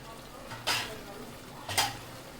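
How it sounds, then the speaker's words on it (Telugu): Chicken curry with tomatoes cooks in a pan as a spoon scrapes through it twice, two brief close stirring sweeps over a faint, continuous low sizzle. "ఇప్పుడు టమాటాలు కూడా వేసుకొని ఉడికించుకుందాం."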